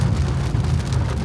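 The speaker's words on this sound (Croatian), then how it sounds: "I evo ga, kiša naravno." Steady rain falling during a stormy drive near Novo Mesto, a dense continuous hiss with low rumble underneath, close and constant for the whole moment.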